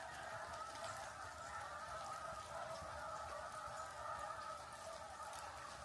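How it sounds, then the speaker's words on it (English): A flock of geese near the Potomac River, calling in a continuous faint honking chorus from a distance over an outdoor background, with no voices. "a bunch of geese"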